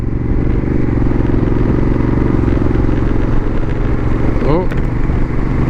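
A car cruising on a road at about 50 km/h with its wheels poorly balanced gives a steady, close road-and-engine drone with tyre rumble throughout, and someone speaks briefly over it.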